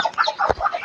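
A young rooster on a farm gives short, close clucking calls in a quick uneven series, with one dull thump partway through.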